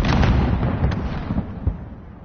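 A grenade explodes in a Call of Duty-style shooter match on the St. Petrograd map, a loud close blast rumbling and fading with faint follow-up pops.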